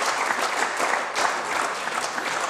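A parliamentary chamber breaks into sustained applause, many hands clapping in a steady dense patter at moderate distance, without speech over it.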